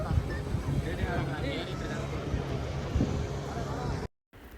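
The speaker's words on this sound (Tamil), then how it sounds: "இவங்க எல்லாருமே வந்து மோட்டர் போட்டில் தாங்க கூட்டிகிட்டு போனோம்" A motor boat crowded with passengers crosses a lake, a steady low engine rumble under wind and water noise, fairly faint, with a brief dropout near the end.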